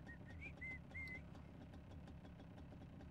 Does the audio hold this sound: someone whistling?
yes